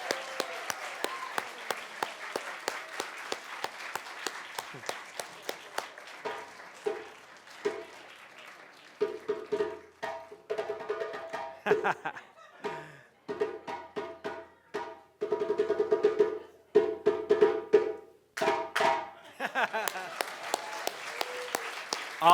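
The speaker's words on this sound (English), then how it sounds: "let's give them another round of applause" Applause for drummers and dancers at a Lunar New Year community celebration, made of scattered, uneven claps in bursts that rise and thin out, with voices and cheering mixed in.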